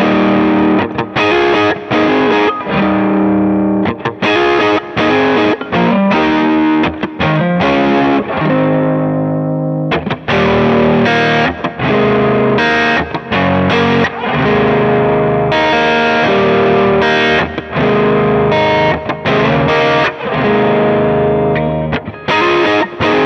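A thick, syrupy overdriven electric guitar, a Strat played through an Overdrive Deluxe amp profile, plays a continuous stream of saturated chords and riffs, loud and close, with no talking.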